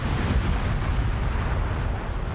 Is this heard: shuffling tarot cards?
no